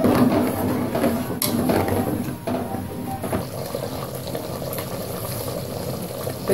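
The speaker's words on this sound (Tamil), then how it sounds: "அதனால இத கொஞ்சம் தண்ணி ஆட் பண்ணி நல்லா கொதிக்க வைக்கணும்" Buttermilk curry (mor kuzhambu) simmers in a pan, giving a steady, close bubbling sizzle that runs unbroken with no one talking.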